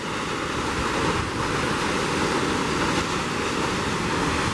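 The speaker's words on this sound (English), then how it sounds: "But look at this waterfall" A waterfall in Perrine Canyon near Twin Falls, Idaho pours in a steady, loud, broadband rush that stays constant throughout, with no voices over it.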